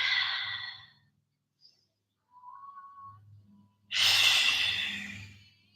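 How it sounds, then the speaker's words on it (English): Deep, audible breaths during a yoga flow, a long airy exhale that fades, a quiet pause, then a strong rushing inhale-exhale, close and clear with no talking. "Cultivate a deep breath that you can hear"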